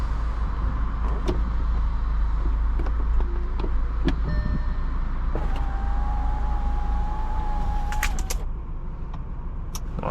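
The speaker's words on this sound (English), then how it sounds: "we're going to close the top in order to minimize the wind noise." An electric power top closing on a 2014 Volkswagen Beetle 2.0T R-Line convertible, a steady motor whine with a few clicks and latch knocks over a low idling hum inside the car.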